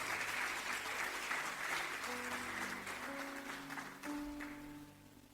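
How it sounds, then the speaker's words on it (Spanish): A church congregation applauds during a Spanish-language service, steady moderately loud clapping that thins toward the end as a sustained keyboard tone enters underneath. "Dele fuerte el aplauso al Señor."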